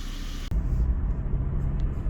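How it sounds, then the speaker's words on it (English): Volvo V70 II car driving after an accelerator pedal sensor fuse repair, heard as a steady low engine and road rumble that stays close and even throughout, with no talking. "I took the car for a spin"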